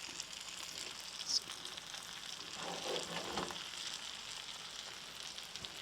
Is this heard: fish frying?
yes